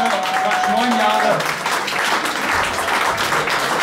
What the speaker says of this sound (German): das ist ein Applaus für Emma für 7 Jahre, fast 9 Jahre.